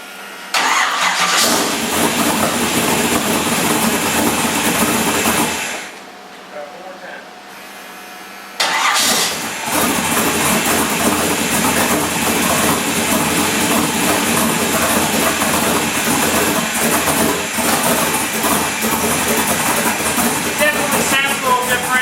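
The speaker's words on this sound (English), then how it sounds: "I'm going to go ahead and fire it up for the first time. We'll see what it sounds like." Roots-blown engine in a Chevy S-10 cranking over and firing up cold, dropping briefly to a quieter stretch, then restarting into a loud, steady, lumpy idle that continues close by.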